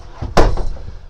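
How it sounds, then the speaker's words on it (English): A plastic porta potty door swings shut with a sharp hollow bang, followed by a brief rattle of the latch being locked, close by. "locking the door"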